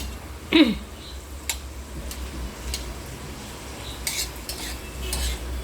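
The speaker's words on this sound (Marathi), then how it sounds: "आता आपण हे कांदा भाजून घेते" A utensil scrapes and clinks against a hot griddle as onion is stirred and roasted, one sharp scrape at first followed by quieter intermittent taps over a low background hum.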